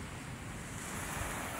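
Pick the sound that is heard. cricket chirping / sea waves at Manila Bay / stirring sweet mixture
sea waves at Manila Bay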